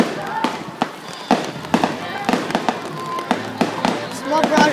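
A rapid barrage of Fourth of July fireworks pops and bangs in quick succession, bursts landing close together with crackling between them, while spectators chatter over the noise.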